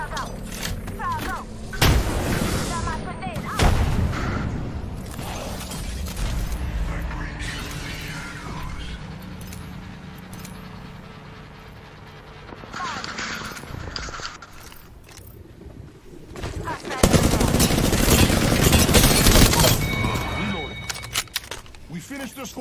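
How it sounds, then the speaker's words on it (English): Gunfire rattles in the Apex Legends video game, with bursts of shots and mechanical reload clacks mixed under in-game character voices, loudest in a heavy stretch near the end. "I'm getting shot."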